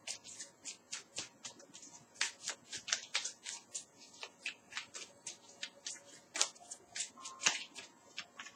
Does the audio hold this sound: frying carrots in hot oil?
no